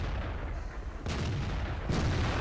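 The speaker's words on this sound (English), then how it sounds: "So that was a 453 damage shot, and he just exploded" Tank cannon fire in World of Tanks from a KV-1S, two sharp loud booms about a second apart over a constant engine rumble, the second hit destroying an enemy tank.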